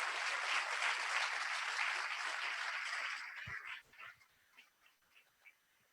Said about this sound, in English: So I want one round of applause for all of our speakers and presenters today.